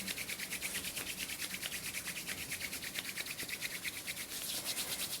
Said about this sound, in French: On frotte les mains, on frotte les mains.